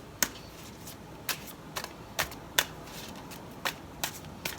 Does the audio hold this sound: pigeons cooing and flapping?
no